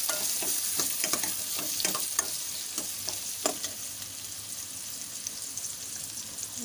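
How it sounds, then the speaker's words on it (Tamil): Ingredients for a prawn kulumbu sauté in a pan with a bright, crackling sizzle, while a spoon stirs with quick, repeated scraping taps that thin out toward the end. "நல்லா வதங்கட்டுங்க."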